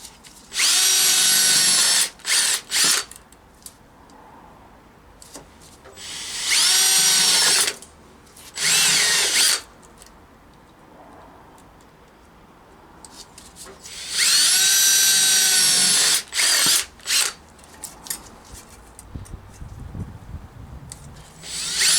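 A power drill with a bit bores into metal while a gear-stick gaiter clamp is fabricated for a Rover P6 V8; loud high whining bursts come in pairs, near and alone, with quiet gaps between.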